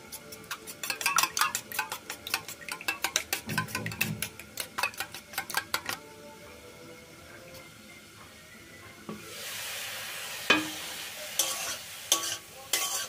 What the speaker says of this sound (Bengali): ডিমের মধ্যে অল্প একটু লবণ দিয়ে ভালো করে ফেটিয়ে নেব।